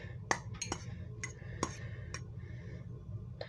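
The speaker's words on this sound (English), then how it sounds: "simply stir your noodles up" Ramen noodles being stirred in a pot, with sharp intermittent metallic clinks and taps of a utensil against the pot over a quiet low background hum.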